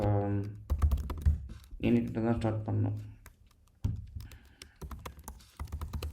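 Terraform code is typed on a computer keyboard as quick bursts of close clicking keystrokes, heard between and under someone speaking.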